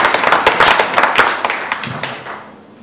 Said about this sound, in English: Little round of applause for the first person to reach the final.